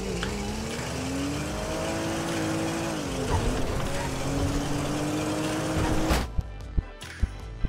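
A game car in GTA 5 drives with a steady, rising engine drone for several seconds, then a sudden crash cuts it off, leaving a few sharp knocks and thuds near the end.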